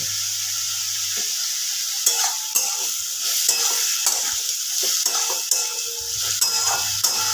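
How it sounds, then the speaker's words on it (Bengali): Ridge gourd fries in a pan with a steady sizzle while a spatula scrapes and stirs in sharp, repeated strokes, loud and close, no voices. "ঝিঙেটা ভাজা ভাজা হয়ে গেছে"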